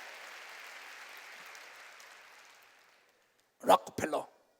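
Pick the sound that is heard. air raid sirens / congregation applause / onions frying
congregation applause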